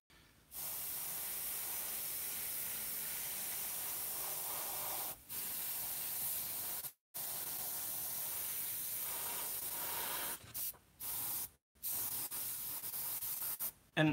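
An airbrush sprays in long, steady hissing bursts close by, broken by a few short pauses where the trigger is released, with no talking.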